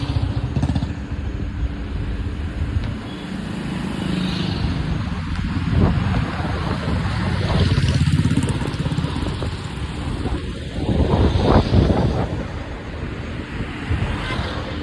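Steady outdoor wind rumble by a riverside road at Karma Road, Ponnani, buffets the microphone, with a passing vehicle engine and a louder gust-like surge near the end; no talking.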